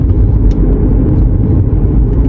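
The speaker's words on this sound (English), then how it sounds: "All these cars right here." Cars passing on a nearby road, a loud, steady low rumble and engine whir that fills the whole stretch without talk, like traffic heard from inside or beside a vehicle.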